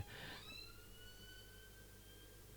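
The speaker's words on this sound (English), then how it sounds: "I think there was a ambulance in the background." Distant ambulance siren drifting in the background, a steady wailing tone that slowly glides in pitch over a constant low hum, faint and continuous, with no one speaking.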